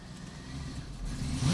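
A 2005 Chevrolet Silverado pickup engine bogs down as the throttle is pressed, a low muffled drone that sags rather than rising before a brief swell at the end, heard close with no talking.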